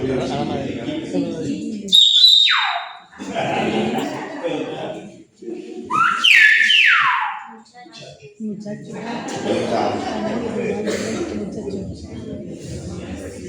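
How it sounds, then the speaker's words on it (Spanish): Silbo Gomero, the whistled language of La Gomera, heard as two loud, sliding whistled phrases standing out between stretches of conversational speech. "lo que hace mediante el lenguaje silbado es traducir a silbido"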